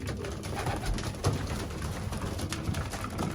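Racing pigeons coo softly in a loft, with low, repeated throaty calls from several birds close by under a steady background hum.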